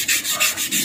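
Sandpaper is rubbed by hand across a scooter body panel for a rat-look finish, giving steady, close, raspy back-and-forth strokes in an even rhythm with no talking.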